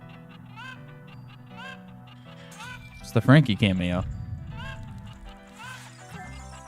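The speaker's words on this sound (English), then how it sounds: "Dude, that noise. Wait, what noise? The chicken?" A chicken in the video game Ocarina of Time clucks in short repeated calls under game music, with a loud squawking burst in the middle while people talk over it.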